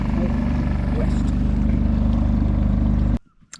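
A sailing boat's engine drones with a loud, steady low throb off Scotland's west coast, then abruptly shuts off, leaving near silence.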